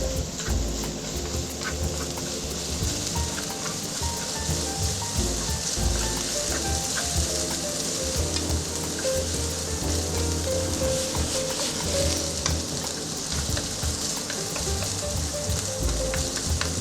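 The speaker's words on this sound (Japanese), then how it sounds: "野菜を炒めていきます。" Onion, leek and bamboo shoot stir-frying in a pan for a sweet-and-sour sauce, giving a steady, dense crackling sizzle throughout with scattered pops and no voices.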